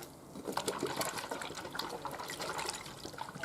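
Hoover Spinarinse 3012A twin-tub washing machine filling and churning with hand-hot water, a close, continuous splashing and sloshing with a faint mechanical hum underneath.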